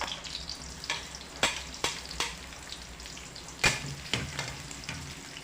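Garlic and onion fry in a pan with a continuous close sizzle, broken by several sharp clicks and scrapes from stirring at irregular intervals.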